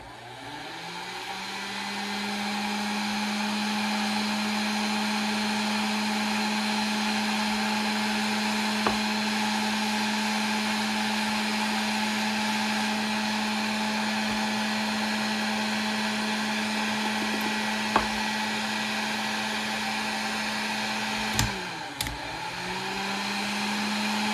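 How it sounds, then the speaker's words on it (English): A heat gun runs while a swimbait gets coated with clear powder paint, producing a loud, steady blower whine and rush that holds constant for over twenty seconds, with a few small clicks and a brief dip near the end. "So gonna fire up the heat gun here and coat this bait."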